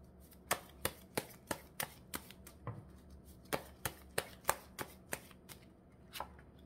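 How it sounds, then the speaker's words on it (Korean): Lenormand tarot cards are shuffled and drawn by hand, producing a quick, regular series of crisp, close snaps and flutters that run alone without talk. "주요 카드로 좋은 카드 하나 뽑아 드릴게요"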